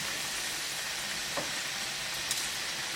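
Tandoori triangles fry in oil over a low-medium flame, producing a soft, continuous sizzle and crackle with a few faint pops, steady and close with no talking.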